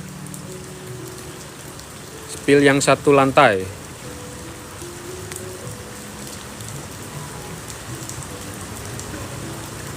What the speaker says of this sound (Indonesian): karena masih hujan ya, di lokasi masih hujan teman-teman